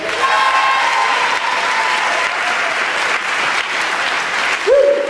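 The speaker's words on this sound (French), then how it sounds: "On peut applaudir Pascal à la musique s'il vous plaît." An audience at an improv theatre match between teams from Paris and Toulouse breaks into steady applause, a broad wash of clapping lasting several seconds with a brief musical tone near the end.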